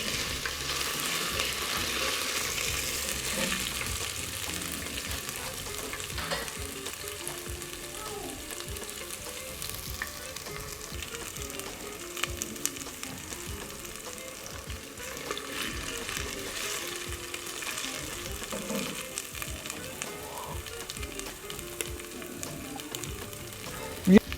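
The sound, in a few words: ginger and garlic paste frying in pan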